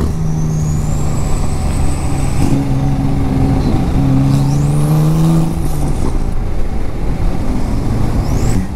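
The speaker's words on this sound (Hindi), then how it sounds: "लैम्बोर्गिनी है भाई वो लैम्बोर्गिनी, तो बहुत ही ज़बरदस्त आवाज़ है इनकी" A Lamborghini supercar on an open road, heard from a riding Himalayan BS6 motorcycle, engine tones rising and falling over steady wind and road roar with other traffic passing.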